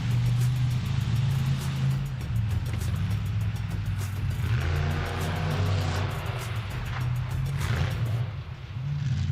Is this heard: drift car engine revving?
yes